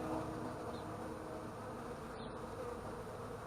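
Honey bees hum in a dense, steady buzz at a beehive during a spring hive inspection, the swarm sound continuous and fairly close, with no voices.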